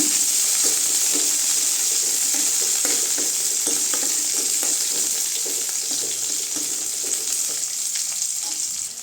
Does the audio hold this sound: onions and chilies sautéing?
yes